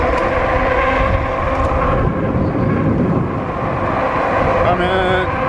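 An M2S electric hunting bike runs on throttle alone without pedaling at about 27 mph, giving a steady loud motor whir mixed with heavy wind and tire rumble throughout.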